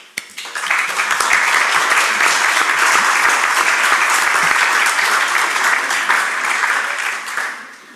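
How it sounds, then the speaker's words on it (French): An audience at a talk bursts into sustained applause, dense clapping swelling quickly, holding loud and even for several seconds, then tapering off near the end. "C'est aussi votre réponse, les applaudissements."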